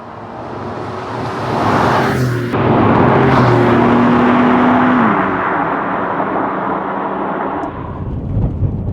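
A Porsche 911 Turbo engine hums and swells while the car drives along a road, a loud steady drone heard from inside that rises in pitch under acceleration before settling again, with no talking.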